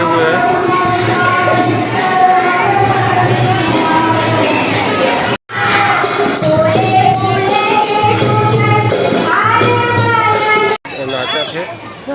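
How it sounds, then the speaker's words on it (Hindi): A dense crowd of devotees fills a temple on Shivratri with a constant, loud babble of many voices close around, with voices and possible music audible throughout, broken by two brief cuts. "शिवरात्रि में भक्तगण के पूरा भीड़ लगे हुए हैं।"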